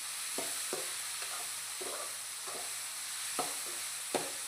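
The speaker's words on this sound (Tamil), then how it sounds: "சவுண்டு கொஞ்சம் அதிகமாக வரும், தக்காளி ஈரமாக இருக்கும்ல" Wet tomatoes sautéing with garlic in a pan give a steady hiss of sizzling, broken by soft spoon-stirring scrapes every second or so, close by with no talk.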